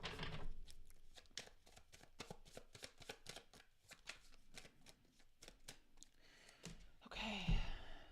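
Tarot cards being shuffled by hand, a rapid run of crisp riffling flutters close to the mic, ending in a louder rustle and tap as the deck is squared.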